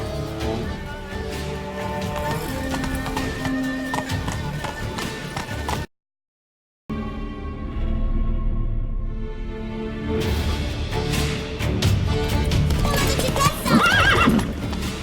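A horse gallops in the Witcher 3 video game, with steady clip-clop hoofbeats and loud neighs and whinnies. A brief silent gap breaks the run, and a voice speaks over the gallop.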